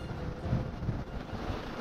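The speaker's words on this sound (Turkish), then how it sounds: "Rüzgar şiddetlendi, dalga büyüdü." Strong wind, around 22 knots with building waves, buffeting a sailboat at sea on a passage from France to Turkey, a steady broadband roar and rumble of gusts across the microphone with no voices.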